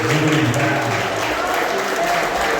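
Steady applause from a congregation at a church worship service fills the whole stretch, dense and continuous, with a voice faintly underneath at the start.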